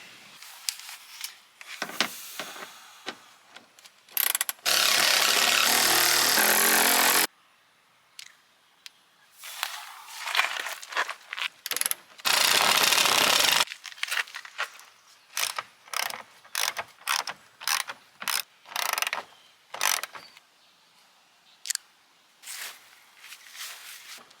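A ratchet removes 10 mm bolts from a car bumper, with close, rapid bursts of clicking, two long continuous stretches and many short clicking spurts between pauses.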